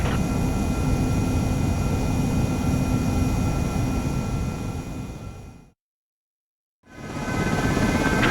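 A fighter jet takes off in Ace Combat 7, a loud continuous engine roar that fades out, cuts to a brief silence, then returns at full strength.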